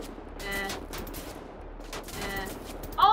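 Gunfire from the Wolfenstein: The New Order video game, bursts of rapid automatic shots in several volleys over low game ambience, moderately loud, with a sharp electronic tone at the end.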